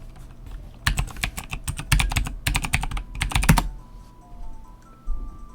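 Rapid clattering keystrokes on a computer keyboard in several quick bursts, close and clear, then a quiet pause with a faint tone in the background.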